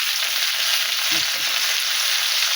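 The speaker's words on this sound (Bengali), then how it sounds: "এবারে আমি ফুলকপি দিয়ে লবণ দিয়ে দিলাম" Cauliflower frying with salt in a pan gives a loud, steady, close sizzle throughout, with a brief soft stirring clatter midway and no talking.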